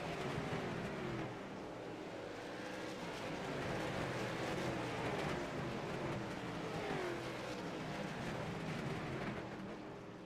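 Pro Late Model race cars roar around turns three and four at South Boston Speedway, a dense, continuous wash of engine noise with passing pitch sweeps, loud and sustained for the whole stretch.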